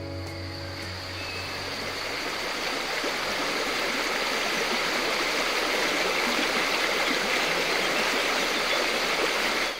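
The Bervezou stream in France flows steadily and continuously, a broad bright wash of rushing water noise with no breaks, fairly close and even throughout.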